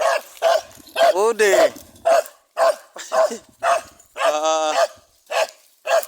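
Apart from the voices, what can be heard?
dogs barking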